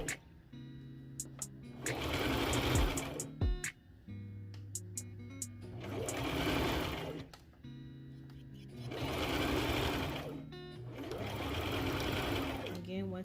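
A sewing machine stitches a fabric cap along a guideline in four bursts of rapid, steady whirring, each a few seconds long, separated by short pauses while a person talks nearby.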